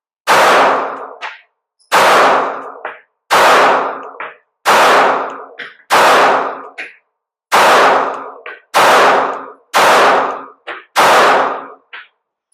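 Nine loud PSA Micro Dagger pistol shots fired at roughly one-and-a-half-second intervals, each a sharp close crack with a brief ringing decay, evenly spaced with silence between them.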